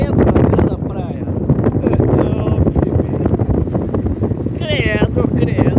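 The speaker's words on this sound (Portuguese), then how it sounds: "Credo, que vento, que vento, que vento." Strong wind blasting across a beach at Laguna in Santa Catarina, Brazil, roaring and buffeting the microphone without letup, while a person speaks loudly over it throughout.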